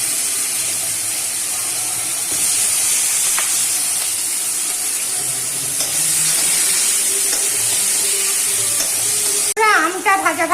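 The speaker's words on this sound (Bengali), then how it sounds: "আমটা ভাজা ভাজা হয়ে গেছে" Mango pieces frying in a pan with green chillies and salt, a steady close sizzling hiss with occasional stirring, and a brief clatter near the end.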